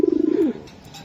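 Racing pigeons give a low, throbbing coo that rolls in a rapid pulsing run and then slides downward before fading, close by and clear with no talk over it.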